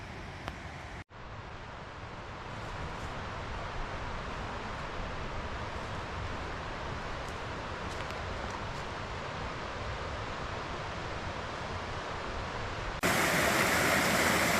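Little River current rushing over rocks at a deep channel crossing, a steady close roar of flowing water running throughout with a brief dropout near the start and a louder burst at the end.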